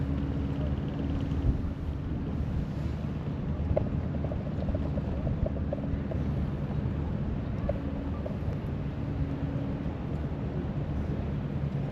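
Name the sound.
tour boat engine while docking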